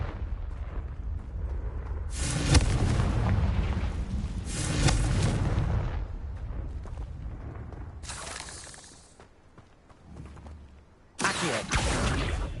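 Confringo blasting curse explosions in Hogwarts Legacy, several loud booming bursts with bright crackling debris, separated by short rumbling gaps, heavy and close with no speech.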